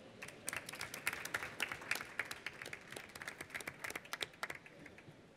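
An audience claps at a business event in Extremadura, a fairly distant crowd whose sharp, uneven individual claps build and then taper off, with no speech over them.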